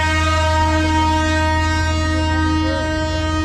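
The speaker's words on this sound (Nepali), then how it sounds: "यताबाट यो ट्र्याक हुँदै आउँछ ट्रेन" Darjeeling toy train running close by on its track makes a loud, continuous rumble with a sustained steady horn tone throughout.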